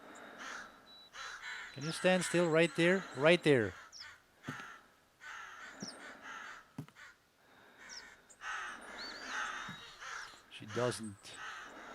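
Crows cawing in the hunting game theHunter Classic, harsh repeated caws in bursts across the scene with someone talking over them.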